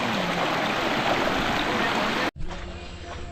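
Steady, dense rush of a forest waterfall and stream near Kupavade village, fed by water all year, fills the clip close and loud; an abrupt cut just past two seconds briefly drops it before the flow resumes slightly thinner.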